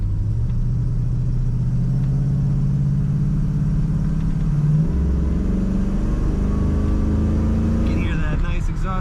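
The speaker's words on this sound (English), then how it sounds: "You can hear that nice exhaust note." Exhaust note of a 1967 Mercury Cougar XR7 hardtop while driving, a steady low engine rumble that rises as the car accelerates, heard from inside the cabin with someone talking over it.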